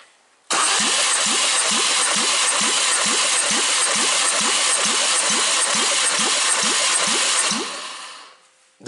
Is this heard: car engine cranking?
yes